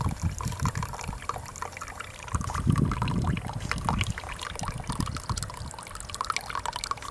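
Water runs steadily through a 1996 Elektra La Deliziosa T1 Italian espresso machine, a continuous close trickle and splash with dripping texture lasting the whole stretch, no voices.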